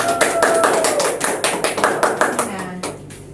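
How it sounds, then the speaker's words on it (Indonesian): A small classroom audience applauding a student group at a micro-teaching practice session: a run of distinct, fairly quick claps that thin out toward the end, with talking going on underneath. "Oke, beri aplaus untuk kelompok 2."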